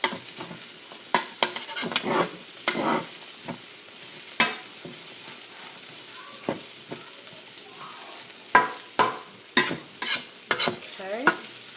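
Beef and broccoli stir-frying in a pan: repeated sharp scraping stirs and clatters over a steady background sizzle, bursts clustering toward the end, no talking.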